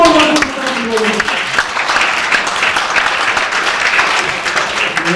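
Symposium audience applauding in a hall: dense, steady clapping from many hands lasting throughout, with a brief voice trailing off at the very start.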